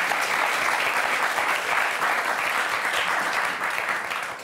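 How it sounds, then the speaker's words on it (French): A television game-show studio audience applauds steadily, a thick wash of many hands clapping at an even level that tapers slightly at the end. "On vous applaudit."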